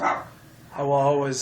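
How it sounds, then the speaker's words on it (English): Dogs barking in the background, a few loud yaps and whines at the start and end, mixed under a man's steady speech. "I apologize for the dogs barking in the background"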